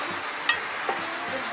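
Onions and tomatoes fry in oil in a pan, a soft continuous sizzle close by, broken by a few light scraping stirs and clinks of a utensil.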